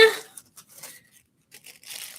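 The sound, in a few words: paper being crumpled and pressed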